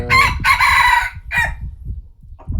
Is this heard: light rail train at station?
no